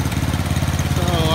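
Duct-taped lawn mower engine running, a close, loud, steady pulsing drone throughout.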